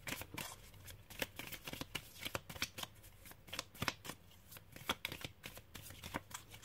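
Tarot cards shuffled by hand for a reading, a quiet close riffle of rapid crisp flicks in uneven bursts, with no voices.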